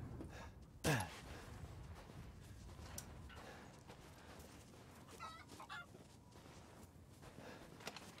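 Chickens cluck faintly in the Resident Evil Village video game, with one sharp squawk near the start followed by sparse, soft clucks over a quiet ambient backdrop.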